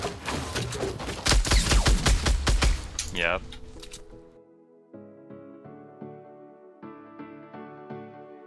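Gunfire from a video game shotgun in Fortnite, a burst of loud rapid shots over the first few seconds, followed by quieter game music and effects.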